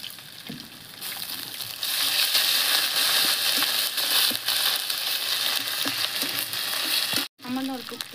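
Ginger garlic paste drops into hot oil with onion, bay leaf and cumin, and the pan bursts into loud, steady sizzling with stirring scrapes. There is a short break near the end, then the sizzle resumes with a bubbling sputter.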